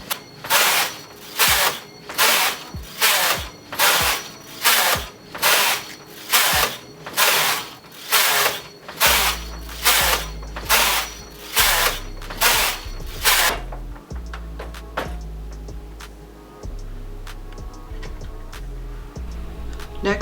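A Brother 940 knitting machine working a sock cuff, a steady rhythm of loud regular carriage passes about every second, then fading into quieter clunks and a low hum, with no voices.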